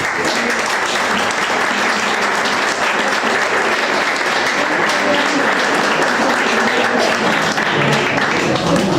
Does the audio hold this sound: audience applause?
yes